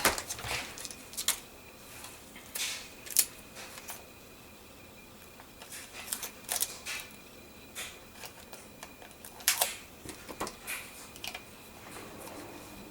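Paper being trimmed for a composition notebook cover: a series of short, crisp snips and rustles that come in irregular bursts, fairly close and quiet, with no talking.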